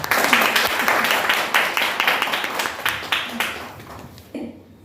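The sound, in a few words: audience applause at poetry night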